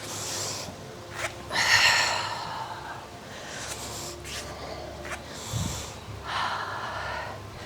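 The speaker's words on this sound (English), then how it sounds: "big, deep breaths." Deep breathing during a beginner yoga class: slow, audible inhales and exhales repeat at a relaxed pace, close and moderately loud over a soft room hum.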